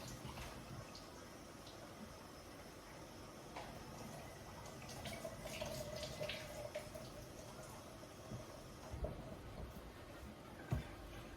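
Mushrooms rinsed under a running kitchen tap while making a beef and veggie soup: a steady, moderately close stream of water splashing and trickling throughout, with brief drips and small clatters.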